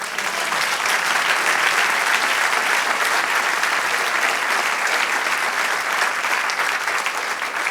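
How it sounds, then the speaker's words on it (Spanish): Sustained, even applause from a church congregation fills nearly eight seconds, a thick wash of many hands clapping without pause. "Del otro aplauso al Señor"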